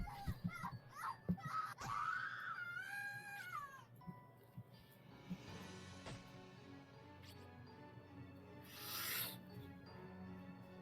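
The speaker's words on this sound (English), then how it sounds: "I've never heard screaming like this before." A boy screams in the Corpse Party horror video game. The wavering, wailing cries rise and fall in pitch and come over faint background ambience. A second shrill burst follows later.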